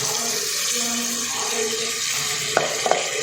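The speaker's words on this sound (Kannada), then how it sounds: "ಇವಾಗ ಇದಕ್ಕೆ ರುಬ್ಬಿರೋ ಈ ಮಸಾಲೆನ ಹಾಕೋತಾ ಇದ್ದೀನಿ" Ground masala sizzles and fries in a pan while methi bath is cooked, a steady close hiss with a few light clinks of a utensil near the end.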